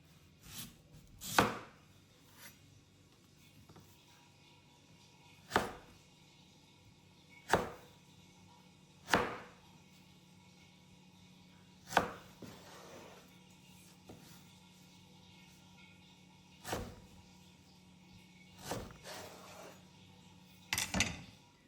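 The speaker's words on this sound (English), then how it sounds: "when they're completely dry, I'll start chopping them." A knife chops mangoes on a cutting board in slow, irregular single strokes, each a sharp close knock separated by pauses of a second or more.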